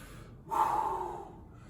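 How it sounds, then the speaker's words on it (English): Heavy breathing after a bodyweight home workout: a single loud, close exhale or gasp that swells and fades over about a second, alone against quiet background. "I'm definitely breathing a little heavy now"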